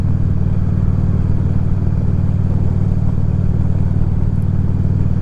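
Steady, close engine drone of a motorcycle being ridden on a cold 48-degree day, a continuous low rumble with wind noise and no change in pace.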